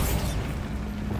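Bombarda spell blast in Hogwarts Legacy, a brief low rumbling boom with a noisy crackling tail that holds steady throughout the short moment, with no talk.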